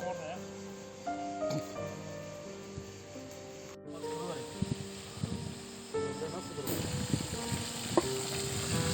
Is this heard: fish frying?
yes